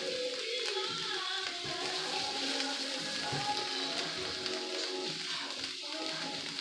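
Vegan Italian-style Tofurky sausage fries in a pan, a steady crackling sizzle like light rain that runs evenly throughout, with no talk.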